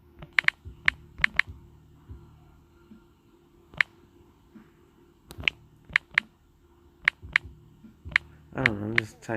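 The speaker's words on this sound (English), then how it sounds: "I'm just typing." Typing on a computer keyboard in short irregular bursts of sharp key clicks, fairly close, separated by pauses, with a faint background hum and a brief noisy sound at the end.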